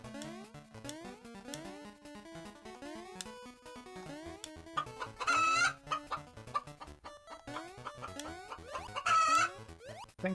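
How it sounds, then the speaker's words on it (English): Repeated chicken clucking sound effect played during a Mario Land 2 stream, loud squawks in bursts over busy game music. "I hope you're okay with the chicken sound"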